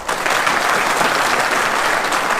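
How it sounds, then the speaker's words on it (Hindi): An audience claps loudly and continuously for a guest at a rural community event in India, a thick, even roar of hands, near and sustained with no talking. "सुमन बहन जी के लिए ताली बजा सकते हैं ना।"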